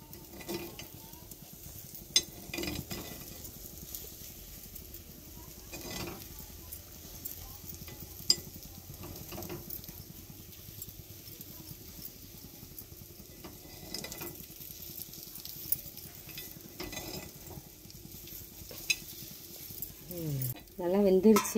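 Stirring ground paste into a spicy village-style paniyaram kuzhambu in a pan, soft scraping and a low sizzle running steadily throughout, with a louder clatter near the end.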